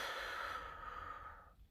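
A slow, steady breath exhaled after a held inhale on an incentive spirometer, a close, soft airy rush lasting over a second before fading out.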